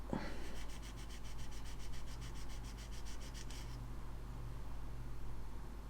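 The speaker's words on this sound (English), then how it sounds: "The Trizact that we've already been using. Get in there and sand it back." Trizact abrasive sands a painted plastic model in close, soft scratchy rubbing, with a quick run of regular strokes for the first few seconds and then a quieter steady rub, no voices.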